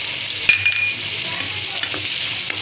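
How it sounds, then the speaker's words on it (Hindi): Chopped onion, garlic and ginger frying in oil on low heat, a steady soft sizzle with an occasional stir or clink of a utensil, close and continuous with no talk. "इसे तकरीबन 3 से 4 मिनट हल्की आंच पर फ्राई करेंगे"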